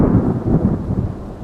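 A deep, loud rumble of thunder rolls through a thunderstorm with steady rain falling outside, filling the whole moment.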